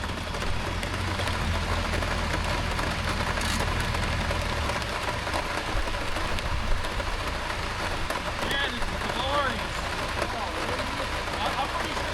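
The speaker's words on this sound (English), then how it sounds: "It's raining." Steady rain patters and hisses continuously, with a low rumble underneath at first.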